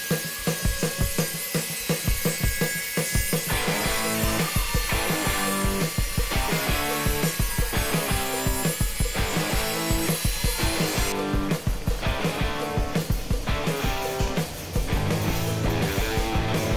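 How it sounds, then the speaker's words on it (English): A router spins fast while cutting MDF side panels, producing a loud, continuous, rhythmically pulsing whine and grinding that carries on throughout with no pause. "Now off to routering the side panels. Take it nice and slow. This thing is spinning really fast."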